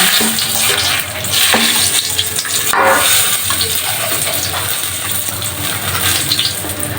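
Whole cardamom, cinnamon and bay leaf crackle in hot oil as chicken kosha gets started, a steady close sizzle with occasional sharper pops and clinks of stirring throughout.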